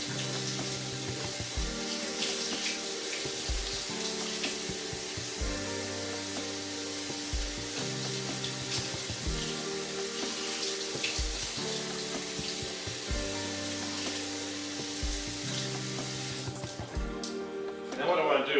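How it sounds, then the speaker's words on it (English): Cold tap water runs steadily into a kitchen sink over hot cooked chickpeas for hummus, a continuous hissing splash with quiet clinks underneath, close and unbroken until a louder clatter at the very end. "I just want to get the temperature down with some cold water."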